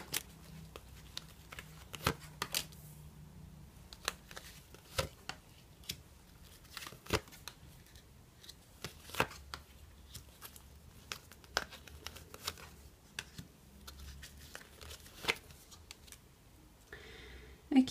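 Tarot cards being shuffled at close range, soft irregular papery flicks and riffles spread across the whole stretch, quiet and intimate with almost no talk.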